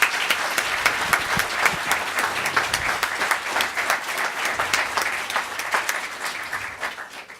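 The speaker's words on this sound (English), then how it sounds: "Let's have another round of applause for these gentlemen here." Steady applause from a seated audience at a Hackensack council meeting, sustained dense clapping at moderate distance throughout, fading slightly at the end.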